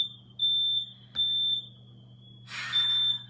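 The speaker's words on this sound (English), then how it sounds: "so y'all don't mind the fire alarm" A fire alarm in a home garage gives three long, steady, piercing beeps spaced about a second apart, loud and close. A rushing, hissing burst of air joins near the end.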